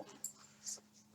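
A pet dog whimpers and whines in short, faint, high bursts near a shelf, close to the microphone over a low steady hum.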